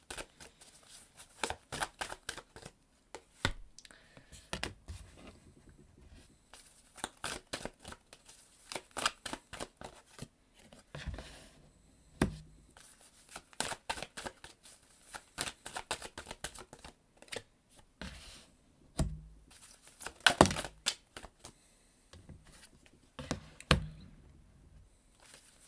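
Tarot cards are shuffled by hand in quiet bursts of riffling and soft taps, close and intimate, with pauses between rounds and no voices.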